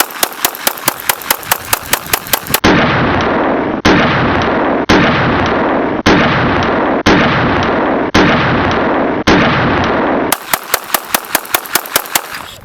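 Pistol double taps on an outdoor shooting range, sharp close cracks fired in quick pairs alongside a long stretch of dense, sustained roaring bursts, loud throughout.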